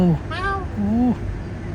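A cat outdoors in Kuwait gives two clear, close meows in quick succession, the second drawn out, over faint background noise.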